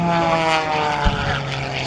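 A propeller aircraft engine warms up at an air show, giving a loud, steady droning hum with a strong buzzing tone that holds throughout, close by and without speech.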